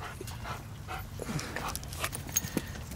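A Rottweiler pants in quick, breathy bursts close by, with a few louder huffs toward the end and no talking.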